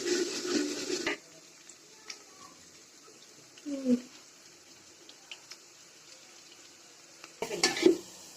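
Onions frying in a pan for Bengali hilsa fish pilaf, a soft steady sizzle with occasional stirring clinks, while someone talks at the start and end.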